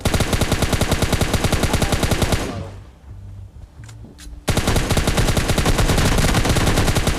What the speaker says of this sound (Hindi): अब मैं तो देखो अंधा फायर कर रहा था